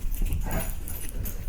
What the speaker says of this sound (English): Idiot dogs are chasing each other around.